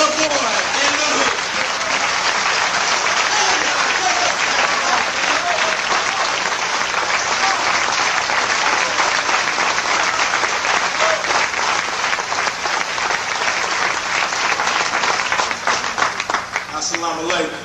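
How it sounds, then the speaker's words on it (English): An audience at a Nation of Islam event breaks into loud, sustained applause, dense clapping that fills the hall for over fifteen seconds before starting to thin near the end. "Let's all give a round of applause for Ice Cube"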